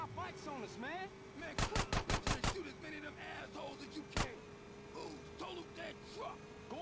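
Gunfire in GTA San Andreas Definitive Edition: a rapid burst of about six sharp shots followed by a single later shot, heard under ongoing voices.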